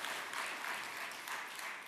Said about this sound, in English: Let's probably give Post Malaysia a round of applause for a very nice hosting.